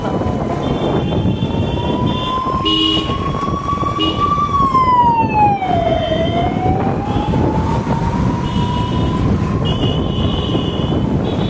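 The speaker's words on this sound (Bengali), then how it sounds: "এই অ্যাম্বুলেন্সের আওয়াজ না আমার মাথাটা ঘুরে ঘুরে দেয়" A loud wailing ambulance siren rises and falls slowly over heavy rumbling road traffic, close by and continuous throughout.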